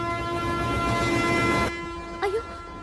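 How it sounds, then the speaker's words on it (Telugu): A long, steady train horn sounds as a Godavari passenger train begins to pull out, then cuts off abruptly, followed by a brief rising vocal sound. "అయ్యో ట్రైన్ స్టార్ట్ అయింది,"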